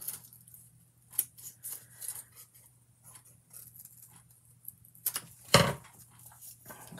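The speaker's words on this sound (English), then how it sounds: "I'm going to cut out a square, kind of like right in the middle of the bird's body." Scissors snip through cardboard, cutting out a square for relief art, in a series of quiet, irregular close-up cuts with one sharper, louder snip near the end.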